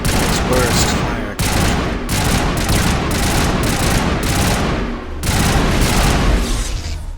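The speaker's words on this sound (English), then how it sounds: "This does not have the best accuracy. Its burst fire" Rapid bursts of burst-fire gunfire in the video game Mass Effect ring out loud and nearly continuous, with brief gaps between volleys and no talk over it.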